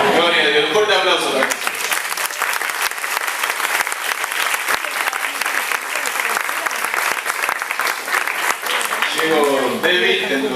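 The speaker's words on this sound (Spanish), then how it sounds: "Un fuerte aplauso." A strong round of applause from a church gathering at a charismatic workshop, loud and sustained, with speech heard before the clapping swells and again as it fades.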